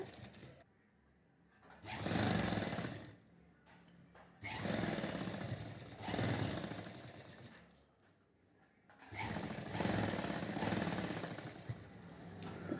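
A sewing machine stitches a child's silk pavadai skirt in loud, steady whirring runs of a few seconds each, broken by short quiet pauses between bursts.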